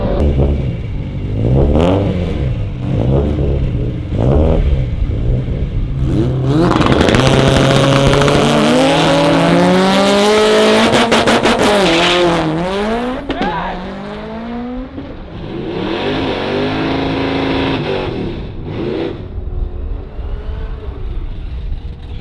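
A 1000+ whp Subaru STI makes a drag racing pass on a track: the engine revs in bursts, then screams hard through rising gear pulls and fades into lower engine noise. It is loud and close throughout.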